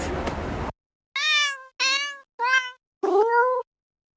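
A cat meows four times in a row, each a clear, close, tonal call with short pauses between, following a brief burst of noisy rustle at the start; no talking.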